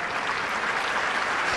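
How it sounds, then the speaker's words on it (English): A tennis crowd at a 2004 Indian Wells semifinal breaks into loud, sustained applause near match point, a dense wash of clapping with no other sound. "People are applauding."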